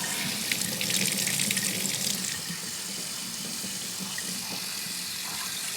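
Cold tap water runs steadily into a sink for rinsing cottage cheese curds made from powdered milk, a continuous close splashing stream, slightly heavier in the first two seconds.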